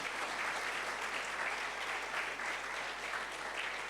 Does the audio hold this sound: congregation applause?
yes